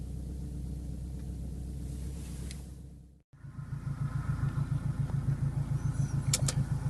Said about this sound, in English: it's idling at 950